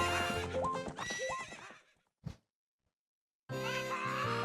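A horse whinnies twice with rising, wavering calls over a musical background in The Legend of Zelda: Ocarina of Time, then silence with a short thud, and a bright musical passage returns.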